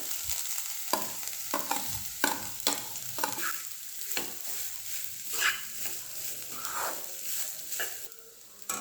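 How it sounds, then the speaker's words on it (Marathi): Cooked rice is added to grated coconut sautéed in ghee for sweet coconut rice and stirred in a pan: a steady, close sizzle with repeated scraping strokes of a spoon through the grains, and no talking. "आणि आता हे नारळ व्यवस्थित परतून झालेले तुपावर आपण ह्याच्यामध्ये भात टाकून देणार आहोत"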